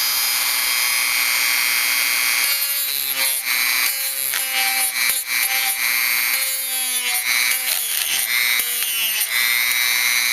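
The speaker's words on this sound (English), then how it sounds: "So that's how you do it with a Dremel." A Dremel rotary tool cuts into the end of a hollow handlebar, giving a close, steady high-pitched whine that starts a few seconds in and shifts in pitch and strain as the cutting wheel bites and eases off.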